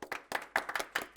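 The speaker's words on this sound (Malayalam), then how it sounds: "എല്ലാവരും ഒന്ന് കൈയടിച്ചേ." A small group claps for the Christmas Papa, with about half a dozen sharp, uneven bursts of hand claps at close range. No one talks.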